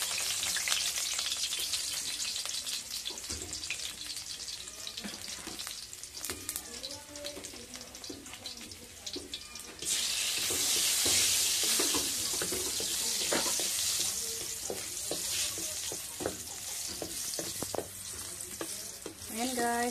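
Shrimp fry in a pan and are stirred, making a continuous loud sizzle broken by scraping strokes and clatter. The hiss grows brighter and denser about halfway through, with some running water mixed in.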